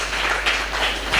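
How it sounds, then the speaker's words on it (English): Applause for two fighters at a combat league press conference, a short burst of clapping from a crowd with a couple of swells, loud and steady throughout. "let's give a big round of applause for these two fighters"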